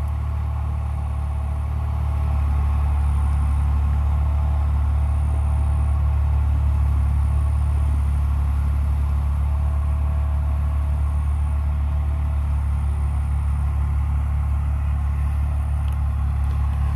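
A Holland tractor engine, an all-rounder model its farmer is unhappy with, runs steadily at a low, droning idle, loud and close, continuing without a break.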